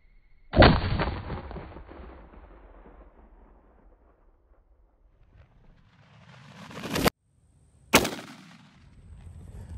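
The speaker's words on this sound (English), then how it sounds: "let's take a shot with the 270 and see what kind of damage we can do" A .270 rifle fires into a paper stack with a loud, booming report that rolls away slowly, followed later by a swelling rumble and another sharp bang.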